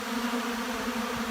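Honeybees buzz continuously and close by as they forage on Ultra Bee pollen substitute during a cold early spring, a steady dense hum with no voices.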